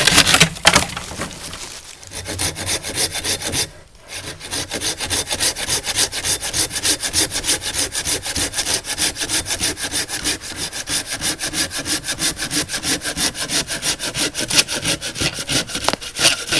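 A hand saw rasps through a wooden stick in fast, steady back-and-forth strokes, loud and close, pausing briefly before continuing without letup.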